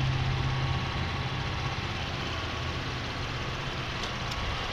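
A Cadillac 3.6 liter V6 with variable valve timing runs at a steady idle, giving a constant low hum under a broad, even wash of engine noise with no talking.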